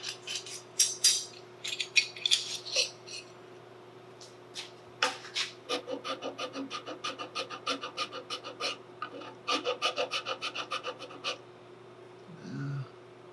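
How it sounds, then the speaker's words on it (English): A metal file rasps back and forth against a rifle buttplate on a Southern Mountain Rifle kit, first in a few loose strokes, then in a steady, even run of close strokes that stop near the end. "So we'll take a file and trim that off."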